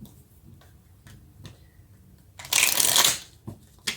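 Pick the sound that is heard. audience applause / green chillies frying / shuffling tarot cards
shuffling tarot cards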